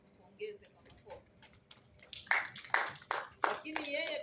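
An audience at a gathering gives a round of applause. It starts with a few scattered claps under a speaking voice, then a burst of louder, close clapping swells in the second half.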